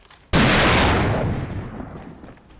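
A single loud gunshot from a weapon in the competitive shooter AVA during an esports grand final, a sharp blast followed by a rolling decay that fades over about two seconds.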